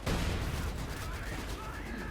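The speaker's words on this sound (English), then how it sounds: "Some big explosion." In the World War II strategy game Company of Heroes 2, a loud explosion bursts at the start and is followed by a dense roar of battle noise and scattered gunfire, with a voice talking over it.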